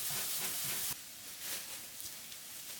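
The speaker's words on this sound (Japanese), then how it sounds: "フライパンにバターをひいて、先ほどの玉ねぎを炒めていきます" Sliced onions fry in butter in a frying pan with a constant bright sizzling hiss, loud at first, then settling to a slightly softer, steady crackle.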